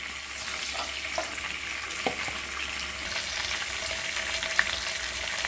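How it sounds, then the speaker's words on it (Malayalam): Food frying in a pan of oil for Thalassery chicken dum biryani, a steady close sizzle and crackle with occasional small pops and stirring clinks, no talking. "ഇനി ബാക്കിയുള്ളതും ഈ എണ്ണയ്ക്കകത്ത് തന്നെ"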